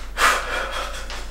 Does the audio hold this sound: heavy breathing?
yes